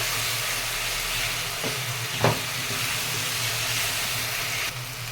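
Masala frying in oil in a pan after water is added, giving a steady loud sizzle and hiss throughout, with a brief stir or scrape near the middle.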